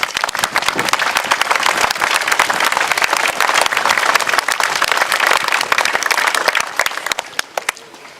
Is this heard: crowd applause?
yes